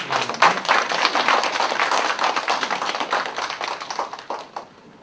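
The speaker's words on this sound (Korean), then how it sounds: "박수로 맞아주시기 바랍니다" An audience applauds a speaker being welcomed at a talk, dense clapping close and loud at first, then thinning out and fading toward the end.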